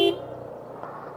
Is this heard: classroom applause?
no